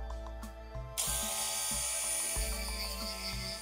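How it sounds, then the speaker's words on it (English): Dremel rotary tool sanding the cracked edges of a Messerschmitt steering bar, a steady high whine that starts abruptly partway through and runs on with faint ticking beneath. "I'm going to start by using this Dremel tool just to start sanding the edges of the cracks in the steering bar"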